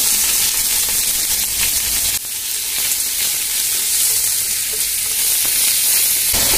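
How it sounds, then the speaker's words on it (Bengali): Onions fry in oil in a pan until golden brown for Bangladeshi beef khichuri, a loud, dense, unbroken sizzle and hiss heard up close, with a brief stir partway through and no talk. "এখন আমি পেঁয়াজগুলো ভালোভাবে আমি বেরেস্তা করে নিব"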